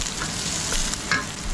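Onion and garlic sautéing in a pan, a loud close steady sizzle with a few light stirring clicks.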